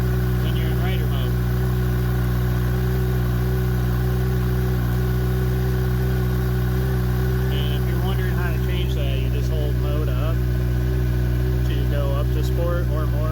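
Kawasaki Ninja 1000SX with a Yoshimura exhaust idling as it warms up, a steady close mid-pitched engine drone that holds even throughout while someone talks over it.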